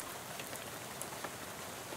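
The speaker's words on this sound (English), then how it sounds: "you're dozing off to the sound of rain spattering on the window beside you" Steady rain spattering against a bus window beside a seat in the game Shadows Over Loathing, a dense, even patter with small scattered drop ticks throughout and no voices.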